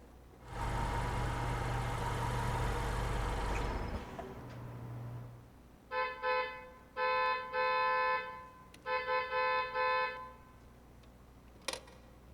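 For a radio drama, a car engine idles at a gas station in a steady loud rumble for several seconds, then cuts off, followed by a few short, bright, tonal honk-like bursts and a final sharp click.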